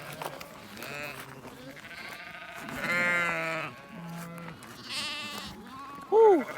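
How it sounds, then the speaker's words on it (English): Sheep bleat repeatedly while being herded on a farm, a mix of near and distant wavering calls with one loud, close bleat near the end, over faint outdoor background. "we're just about done with herding these sheep up"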